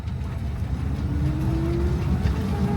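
A Renault Twizy electric car driving, a steady low road and motor hum with a faint rising whine, continuous and close, no talking.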